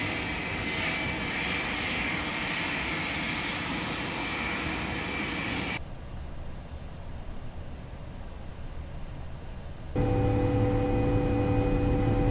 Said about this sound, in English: Clear to start. All 4 engines.